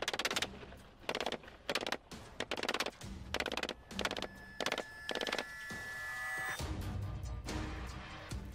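Bursts from a 9mm MP5 submachine gun, roughly eight loud, sharp volleys of rapid automatic fire separated by short pauses, then a sustained rumbling echo and ringing tail outdoors.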